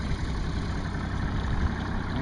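A Nitro bass boat's 115-horsepower outboard motor idles on Lake San Antonio, a steady low, even engine rumble that stays constant throughout without change in pitch.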